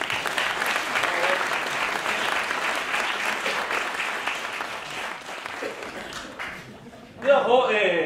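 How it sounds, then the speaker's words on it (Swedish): A theater audience at a hotel stage show greets arriving performers with sustained applause, a dense wash of clapping that runs steadily before dropping off near the end as a voice starts speaking. "Jajamensan, en applåd va?"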